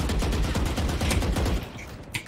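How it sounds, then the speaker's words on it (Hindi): Dense automatic gunfire in the Valorant video game, a loud continuous rattle of rapid shots with a booming low end, close and unbroken for a couple of seconds. "इधर उधर जा रही है गोलियां"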